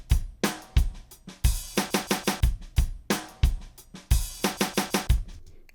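A punchy drum pattern of kicks and snares with bright cymbal hits, repeating in a quick rhythmic fill, loud and close with no voices.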